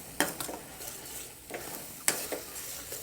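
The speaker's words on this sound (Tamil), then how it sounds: "சேர்த்து நல்லா 1 நிமிஷம் கலரிக்குங்க." A spoon stirs a paste of ground coconut, cashew and green chili in a hot pan, giving a soft sizzle broken by a few sharp scraping strokes at a slow, uneven pace.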